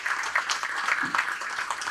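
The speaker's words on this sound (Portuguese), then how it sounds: "pessoal do som, uma salva de palmas aqui" Audience applause for the sound crew at a formal public event, a continuous wash of many hands clapping at moderate volume, heard alone without talk over it.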